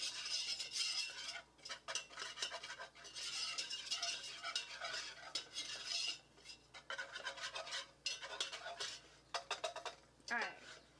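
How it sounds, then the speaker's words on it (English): A whisk scrapes and clatters rhythmically against a pan as flour is worked into gravy over medium-low heat, quick metallic strokes in bursts with brief pauses, close and clear. "medium-low heat and just kind of whisk it together"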